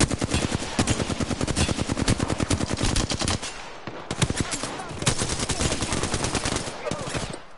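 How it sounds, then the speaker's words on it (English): Rapid bursts of automatic gunfire from enemies in the Apex Legends video game, loud and close, with dense volleys that break briefly before resuming in continuous rattling fire. "The enemies are shooting at me."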